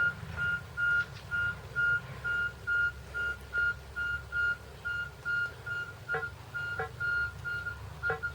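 A repeating electronic beep from a Minelab Safari metal detector with an 11-inch coil, signaling silver, pulses at a steady rhythm, each tone short and clear, with a low rumble underneath.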